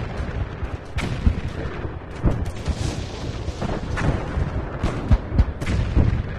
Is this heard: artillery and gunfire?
yes